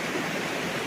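A forest river in Malaysia rushes and splashes around a bather, heard as a dense, steady hiss of flowing water that fills the short stretch without pause.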